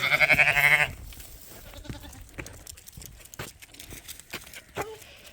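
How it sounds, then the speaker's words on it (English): A group of sheep on a farm lets out a loud, close bleat at the start. Scattered knocks and shuffling follow as the animals are moved along. "now we're bringing another group of sheep over to the Coveralls"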